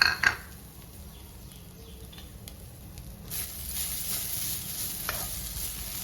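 Grated coconut dry roasted in a pan with no oil for a Kerala-style potato curry. A scrape at the start gives way to a soft, steady sizzle and stirring, and the hiss grows a little louder toward the end.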